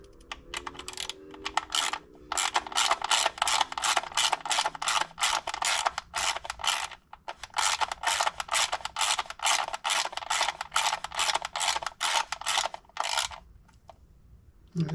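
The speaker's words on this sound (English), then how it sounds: "Let's bolt it down." A ratchet tightens bolts on Maserati Ghibli parts during reassembly after an oil pressure sensor replacement, producing long runs of rapid, crisp clicking close by, with short pauses between strokes.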